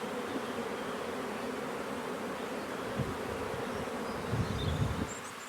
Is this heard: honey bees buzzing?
yes